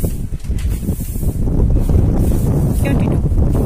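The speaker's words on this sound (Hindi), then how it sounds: "हाय कितनी प्यारी हवा चल रही है ना टीटू" Steady wind buffets the microphone outdoors, a loud continuous rushing roar that swells slightly louder after the first second and a half, with a brief faint chirp near the end.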